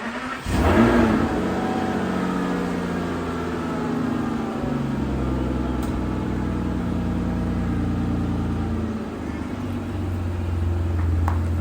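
A 2000s Aston Martin DB9 revs hard as it is driven outside, its steady loud engine note rising and holding close to the listener for the whole stretch.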